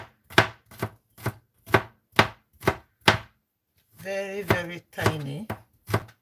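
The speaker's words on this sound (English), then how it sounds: "So I'm going to be cutting the garlic into smaller chunks" A knife chopping garlic into small chunks on a board, seven crisp evenly spaced chops, then someone speaks, followed by one more chop close up.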